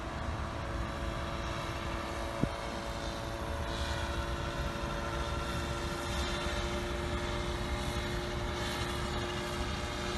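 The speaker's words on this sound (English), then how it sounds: "So a helicopter is now turning the nose and flying back to the home position." SK1000 UAV helicopter flying back toward its home position, a steady whirring rotor and engine drone with constant tonal hum, moderately distant and even throughout, with one brief click early on.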